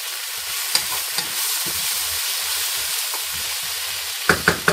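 Mushrooms sizzle in a frying pan for a mushroom sauce, a soft continuous hiss with gentle stirring, ending in a few sharp knocks of a utensil against the pan.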